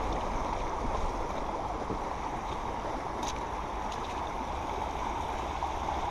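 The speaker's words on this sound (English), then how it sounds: "You gotta come here when it's wet, see it flowing pretty good like this." A creek swollen by wet weather rushes past steadily and fairly close, a dense, even wash of flowing water that fills the whole stretch, with a few faint higher splashes on top.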